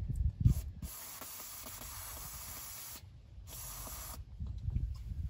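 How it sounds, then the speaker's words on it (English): Carb cleaner is sprayed onto the oily engine headers of a 1971 Dodge Charger Super Bee in two long, close hissing bursts from an aerosol can, separated by a brief pause, with faint handling noises around them. "I'm gonna clean it off first with some carb cleaner"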